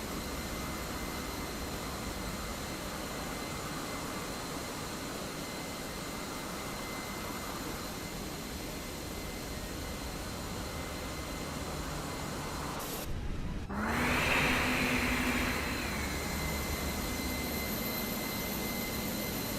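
A jet engine on an Airbus A319 pushing back at Atlanta airport in Microsoft Flight Simulator 2024 produces a steady, loud roar and whine. A brief cut is followed by a rising, brighter engine surge.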